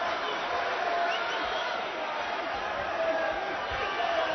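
A Manchester crowd at a boxing match featuring Flintoff and Dawson keeps up a steady, loud roar, with a commentator talking over the noise.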